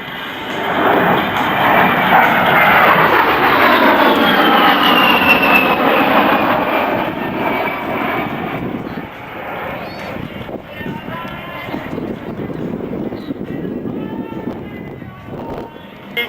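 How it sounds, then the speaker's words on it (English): A Fairchild A-10 jet makes a high-speed pass with an aileron roll at the 2003 Andrews AFB air show, a loud rushing roar that swells and sweeps past, then slowly fades while an announcer speaks over the PA. "The A-10 has a well-earned reputation for strength and striking power."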